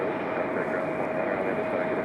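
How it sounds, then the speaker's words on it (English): An Aeromexico jet airliner departing Raleigh-Durham International Airport for Mexico City gives a continuous, loud, rushing engine roar with a steady whine riding on top. "Here we go, Aeromexico with a turn and burn."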